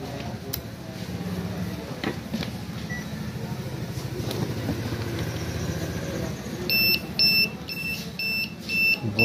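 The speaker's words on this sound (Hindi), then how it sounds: "इसने बजर देनी शुरू कर दी है" A UPS unit's buzzer starts beeping in short repeated electronic pulses near the end, after a stretch of low humming room noise and handling sounds, with no talking.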